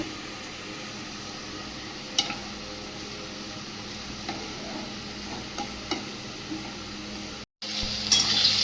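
Vegetables fry in a small amount of light oil in a pan, a steady soft sizzle throughout with a few faint clinks of stirring and a brief break near the end.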